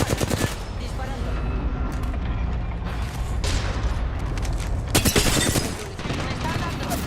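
Rapid automatic gunfire from a first-person shooter game, dense bursts with sharp louder volleys near the start and middle, continuous and close, with game voice lines and speech mixed in.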